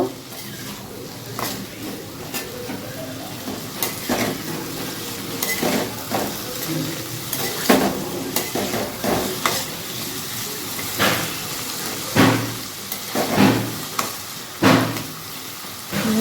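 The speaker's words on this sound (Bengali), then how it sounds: "এখন আলুগুলো নাড়াচাড়া করে একটু ভাজা ভাজা করব" Potatoes sizzle steadily in a pan while a utensil scrapes and stirs them in repeated bursts, with occasional clanks of metal against the pan.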